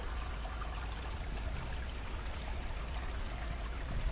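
Steady rush of a tannin-stained creek flowing over rocks in fall woods, a continuous close-up babble of water with no voices.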